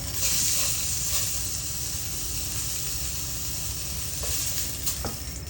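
Beef sizzles and hisses steadily in a hot pan over high heat, a loud continuous crackle with a few brief spits.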